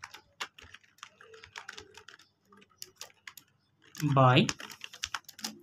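Fingers type on a computer keyboard while writing a Fortran program, bursts of quick clicky keystrokes up close, with someone talking over them in places.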